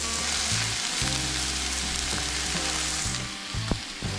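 Small steaks frying in a hot pan, a loud, dense, continuous sizzle close up, with a few brief clatters of stirring or turning near the end and no talking.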